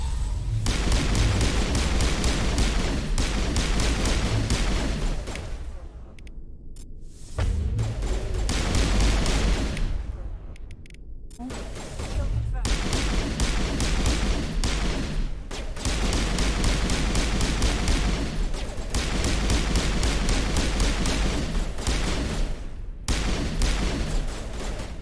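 Pistol gunfire in the video game Mass Effect, dense rapid shots and booms in sustained loud bursts with a few short pauses, constant combat noise throughout.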